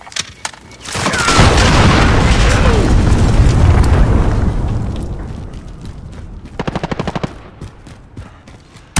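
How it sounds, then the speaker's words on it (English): A cruise missile strike in Call of Duty Modern Warfare: a huge, roaring blast that swells and rumbles for several seconds, then fades into scattered gunfire bursts and rattles. "Enemy cruise missile incoming."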